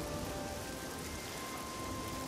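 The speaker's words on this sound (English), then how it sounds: "Oh, and it's raining." Steady rain falling in the video game Morroblivion, a soft, even hiss of drops that holds at a constant level throughout with no voices.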